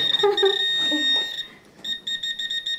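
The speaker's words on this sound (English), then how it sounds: "The metal detector works." A metal detector sounds over buried metal at an old mine near Cerro Gordo, giving warbling electronic tones that shift in pitch, then a short pause and a run of quick, evenly spaced high beeps, close and clear.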